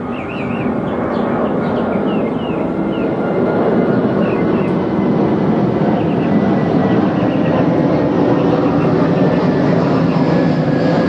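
A steady, broad roar of an aircraft passing overhead fills the whole clip at constant loudness, with faint bird chirps high above it.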